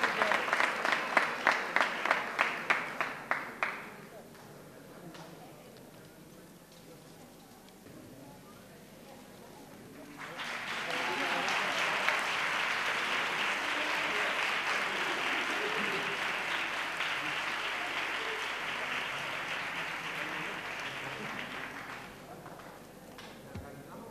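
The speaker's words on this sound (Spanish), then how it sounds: "Fuerte el aplauso y felicidades" At a carnival proclamation event in San Juan de Aznalfarache, a few seconds of rhythmic clapping fade out, then after a lull the crowd bursts into long, steady applause that holds strong before cutting off near the end.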